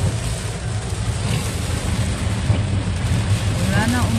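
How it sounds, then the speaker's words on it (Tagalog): Heavy morning rain pours down in Kota Kinabalu, a steady dense hiss with low rumbling underneath that continues unbroken, loud and close throughout. "Ulan na umaga. Grabe ang lakas guys."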